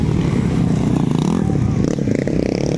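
Motocross motorcycle engine at a race in Kidapawan City, a steady buzzing drone with shifting revs and some clatter, heard at moderate distance under crowd or commentary noise.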